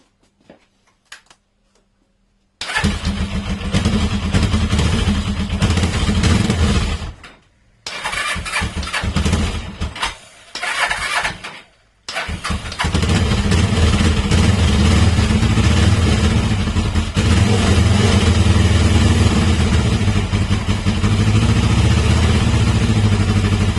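Motorcycle engine cranking and firing after a timing chain replacement, catching after a few attempts, stalling briefly, then settling into a loud, close, steady idle with mechanical clatter.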